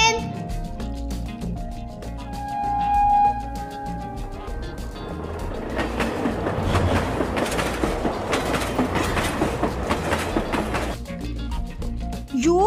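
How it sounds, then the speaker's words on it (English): A train rolls past with a steady rumble and rhythmic clickety-clack of wheels on rails, building from a quieter start to a loud, sustained passage over background music. "T for train."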